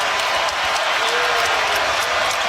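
A college basketball crowd at a Saint Louis versus Dayton game sends up steady, loud, sustained applause and cheering that fills the arena.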